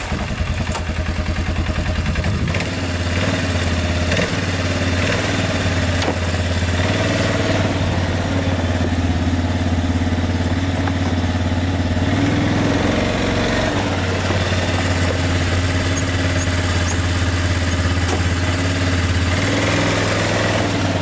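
Old plowing ATV that sat in a mouse-infested barn for years runs with a steady, rough mid-pitched engine drone and rattle, loud and continuous for the whole stretch, with no voices.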